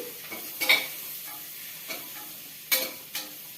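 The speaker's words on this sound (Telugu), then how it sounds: "దీంట్లో ఈ పొప్పడికాయ ముక్కలు వేసేసుకోవాలండి వేసుకొని బాగా కలుపుకోవాలి" Papaya pieces are stirred into frying spices in a pan for papaya pulusu, a soft sizzle broken by a few sharp scrapes and clinks of the spoon against the pan at irregular intervals, no talk.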